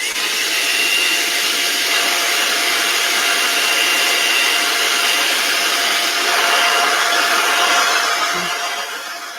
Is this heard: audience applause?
no